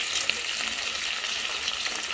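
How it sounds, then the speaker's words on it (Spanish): A steady, close sizzle of chili, bell pepper, onion, tomato and garlic frying in a pan for a beans dish cooked with pork bone in El Salvador, continuous with soft crackles and no talk. "Que estamos friendo aquí es para los frijolitos."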